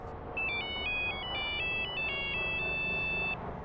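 A phone ringtone plays a bright electronic melody of short repeated tones, clear and steady for about three seconds over a faint background hiss, with no talking.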